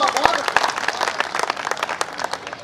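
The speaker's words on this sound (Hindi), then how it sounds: "एक बार जोरदार तालियां भाई" An audience at a Hindi poetry gathering during a Navdurga festival breaks into brisk clapping, sharp separate claps thinning out over a couple of seconds while voices speak over them.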